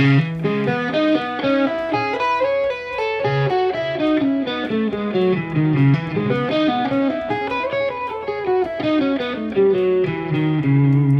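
An electric guitar with a gritty, distorted tone runs up and down a minor-sounding scale, notes flowing continuously with no talking.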